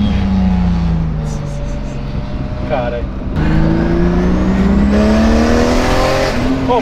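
A modified 400 hp BMW engine revving hard with a Supra-like growl, rising pitch sweeps as it climbs through the revs, loud and close, with people talking over it.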